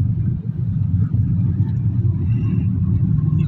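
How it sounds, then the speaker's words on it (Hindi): A motor vehicle approaching from behind on a road, heard as a steady, loud low engine rumble with no clear rise or fall and no voices. "भैया की गाड़ी आ रही है, पीछे"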